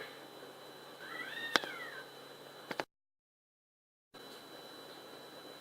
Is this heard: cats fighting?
yes